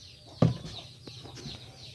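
Backyard chickens let out a short loud cluck near the start, followed by softer scattered clucks and chirps over faint background noise, close by, no talking.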